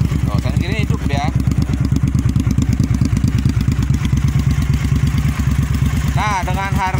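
A Suzuki TL1000S V-twin motorcycle engine runs close and loud, with a steady, rapid low throb that continues through the whole stretch while someone talks over it.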